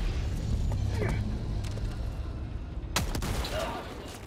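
Grenade blast in the video game Helldivers 2: a sharp broadband burst cracks out midway through dense game noise and rumble, with a short burst of further impacts after it, loud against the steady combat din.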